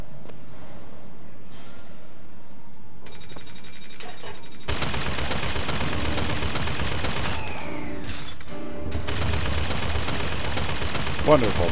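Automated turrets in the video game BioShock Infinite fire loud, sustained rapid bursts from about three seconds on, with a brief break midway before the fire resumes to the end.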